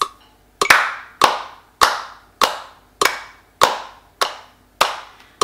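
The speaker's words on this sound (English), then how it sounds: "Now let's use our metronome and clap" Hands clapping four crotchets in time with a metronome in a kids' rhythm lesson, sharp evenly spaced claps about every 0.6 seconds, loud and close, with quick decays and no talking.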